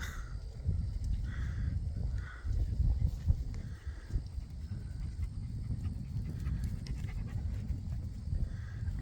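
Dog panting steadily close by near a ram in a sheep pen, with soft footsteps and shuffling alongside and no talk.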